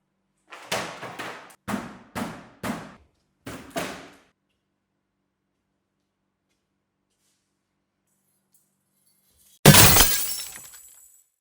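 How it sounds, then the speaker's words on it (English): Several sharp smashing impacts on a TV screen come in quick succession, then a long silence before one loud final crash of shattering glass that rings out and decays, with no talking. "After smashing that TV"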